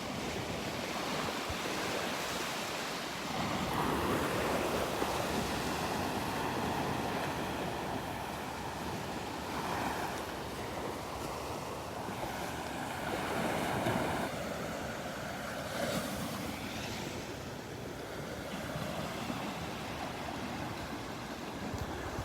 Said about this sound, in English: it's always fun to watch the waves crashing onto the beach.